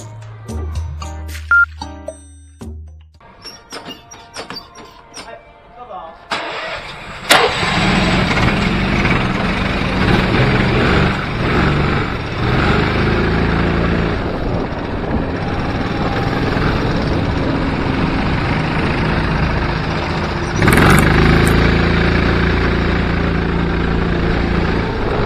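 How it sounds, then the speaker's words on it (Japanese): A go-kart engine at a night kart track buzzes loud and continuous for most of the clip, revving and droning after a quieter start. A brief, scrappy tire squeal may be mixed in. "父ちゃん一瞬目タイヤ鳴らすね"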